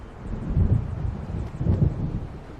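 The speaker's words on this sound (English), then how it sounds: "It seems there's a storm coming." Low rolling thunder of an approaching storm in the video game Alan Wake Remastered, two deep rumbles swelling and fading a second apart over a steady windy, rainy wash.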